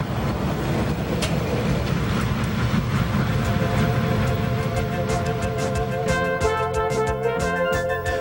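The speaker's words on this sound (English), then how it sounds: "Here we see the same train pulling empties through the mine." A Monongahela Railway freight train pulls empty cars through a mine, a continuous rumble of rolling wheels and rattling wagons with sharp metallic clanks and squeals building toward the end.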